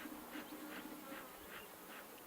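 Guard bees pour out of a beehive during a hot inspection, their steady buzzing a near, continuous hum with soft pulsing swells, alone without voices.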